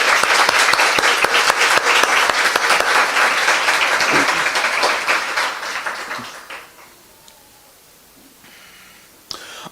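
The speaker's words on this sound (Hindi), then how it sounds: "आइए उस महान मददगार के लिए एक जोरदार ताली बजाएं।" A church congregation applauds loudly for several seconds, the clapping gradually thinning and fading away into near silence.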